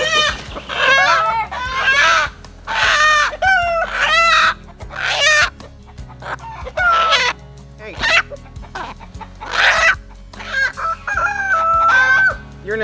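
Chickens cluck and a rooster crows repeatedly near a backyard chicken coop, loud and close, the calls coming in irregular bursts with brief quiet gaps between them.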